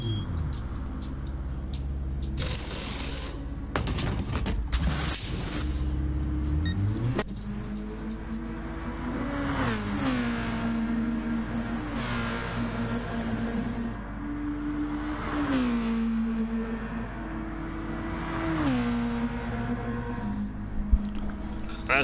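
Race car engines revving and shifting at a rolling start in a Gran Turismo Gr4 race at Sainte Croix, a loud droning roar rising and falling through gear changes, with a voice faintly underneath.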